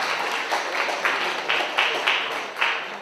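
Audience at a talk on urban sustainability and climate change breaks into steady applause, dense clapping with rhythmic swells roughly every half second, close and moderately loud, with no voices over it.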